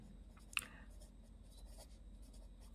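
Faint, brief strokes of writing on a board while a maths triangle problem is worked out, with a few scratchy marks over a quiet room.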